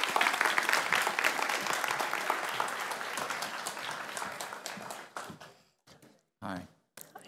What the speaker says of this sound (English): Please give a big round of applause for Mr. Kim Stanley Robinson.